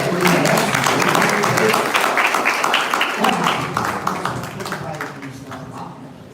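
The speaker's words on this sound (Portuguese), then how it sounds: "Ainda salve de palmas para Jesus" Church congregation giving a round of applause for Jesus during a sermon, a broad wash of many hands clapping together with voices mixed in, loud at first and slowly fading.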